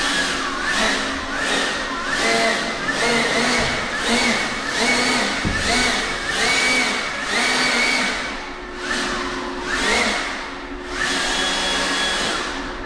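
Powerful blower roaring steadily as it clears wood scraps and debris out of a Schneider semi-truck trailer, its rushing air pulsing and surging in bursts, close and loud with no voices.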